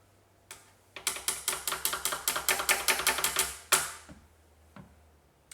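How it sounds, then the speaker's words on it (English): Pencils drum on a table in a quick, even burst of about fifteen sharp wooden taps lasting close to three seconds, then a louder final strike and a couple of faint taps afterward. "I saw these pencils and all of a sudden I couldn't help myself start drumming"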